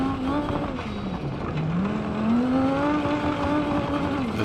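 A fast custom car in BeamNG.drive races through the East Coast USA map, its engine note rising and falling steadily with the throttle, loud and close throughout with no voices over it.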